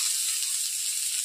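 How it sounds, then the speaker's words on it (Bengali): Onions fry in mustard oil in a pan for potato momos, giving a brief, steady sizzling hiss, close and fairly quiet, with no other sound. "আমি ভেজে নিচ্ছি এখন পেঁয়াজগুলোকে।"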